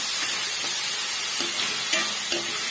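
Small fish curry with tender tamarind leaves stirred in a pan, a steady sizzling hiss with soft scraping strokes of the spoon, close and continuous.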